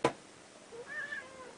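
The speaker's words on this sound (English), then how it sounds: "Cat. This is Smokey." A cat named Smokey gives a short, rising meow with clear tonal harmonics, quiet and close, following a brief sharp knock-like thump at the start.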